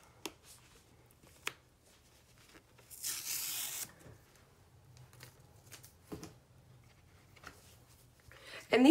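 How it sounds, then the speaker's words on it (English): An iron-on vinyl sticker for a T-shirt craft peels away from its backing in one short rasping tear, faint and close, among quiet rustles and small taps, with a voice briefly starting at the end. "So I'm going to get my sticker off here."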